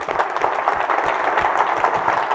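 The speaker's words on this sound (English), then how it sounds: "big round of applause for Carla" An audience gives a short, loud, close burst of dense clapping for Carla at a staged presentation, a steady wash of claps that lasts a couple of seconds.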